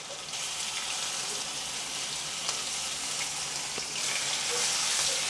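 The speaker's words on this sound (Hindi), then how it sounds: "थोड़ा सा इसे फ्राई कर लेते हैं हम" Ginger garlic paste and crushed green chillies frying in a pan while cooking a chana dal samosa filling, giving a steady, close hiss of sizzling oil throughout with no talk.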